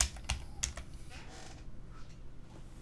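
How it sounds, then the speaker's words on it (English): Typing on a computer keyboard while entering a plugin name into a search box, a short run of sharp clicking keystrokes, the first few louder and the rest fading to soft taps. "I'm simply going to type in the search box"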